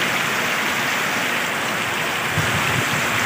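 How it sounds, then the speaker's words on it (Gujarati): Ashadh-month monsoon rain falls hard on flooded soybean fields and a waterlogged school ground in Gujarat, an even, roaring wash of drops with a few low thumps near the end and no speech. "અષાઢ મહિનાનો ભાઈ વરસાદ ચાલુ થઈ ગયો છે."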